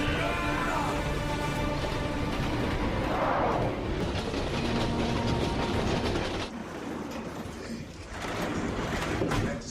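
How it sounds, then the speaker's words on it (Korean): A train crossing a bridge over a river, a loud steady rumble of wheels and rail noise throughout, with rhythmic clacking and brief shifts in tone near the end. "기차는 어느새 다리 위를 지나가게 됐고"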